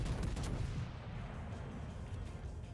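Gunfire in a World of Tanks style armored battle game, a dense, continuous broadband blast of shot and explosion noise filling the whole stretch with no talk.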